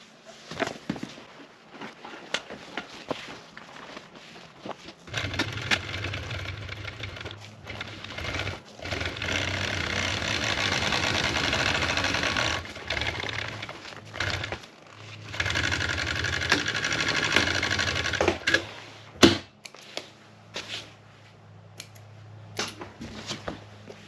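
A sewing machine stitches a half-inch seam on a boat seat cover using a magnetic sewing guide, running in several sustained bursts of steady, close whirring separated by short pauses and handling noises.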